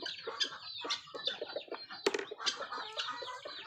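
Guinea fowl on a Thai farm call in a rapid series of harsh, rhythmic, chattering notes, fairly close and repeated throughout without pause.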